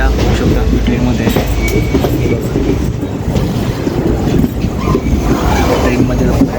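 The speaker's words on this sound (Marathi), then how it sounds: "आपली ट्रेन निघालेली आहे" Passenger train bound for Goa running after leaving Kalyan, with a continuous loud rumble and rattle of the wheels on the track and voices talking over it.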